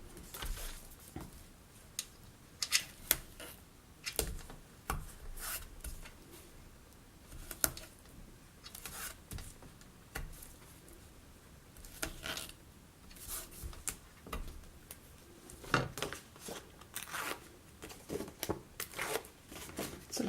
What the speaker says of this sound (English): It's a lot easier to get the backing off the white tape than it is of the red tape.